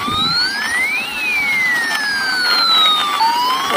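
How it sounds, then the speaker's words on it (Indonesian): A wailing siren sweeps up and down in pitch, loud and continuous, with engine noise underneath. "Wow, ini juga ada mobil ambulan."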